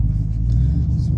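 A Chevrolet Trail Boss pickup truck on a dirt track, its engine giving a loud, close, deep rumble under light throttle, steady through a brief moment.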